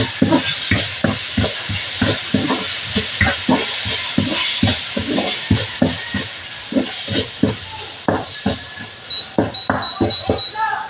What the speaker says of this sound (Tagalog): Mix lang ng mabuti.